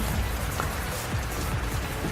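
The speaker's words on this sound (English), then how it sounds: "but it started raining." Rain falls outdoors, a steady dense hiss of drops on surfaces with a few louder individual patters, continuous and fairly close, with no voices.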